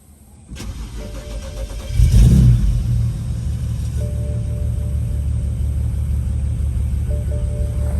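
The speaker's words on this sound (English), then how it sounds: "It's still got that lumpy idle." A cammed BMW N54 engine fires up with a loud rev, then settles into a rough, uneven, lumpy idle, loping and rumbling, steady and close.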